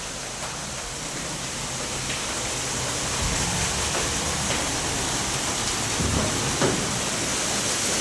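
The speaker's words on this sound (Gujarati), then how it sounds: "કેવો વરસાદ છે." Heavy rain pouring down in Jamnagar in May makes a dense, constant roar of falling water, swelling slightly louder partway through, with no talk audible.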